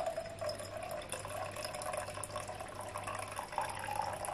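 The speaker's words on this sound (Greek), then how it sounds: "Θα βάλουμε 100 γραμμάρια καυτό νερό." Hot water, about 100 grams, pours steadily from a kettle or tap in a home kitchen while milk and yeast are being prepared for a dough; a soft, continuous trickling wash with no speech.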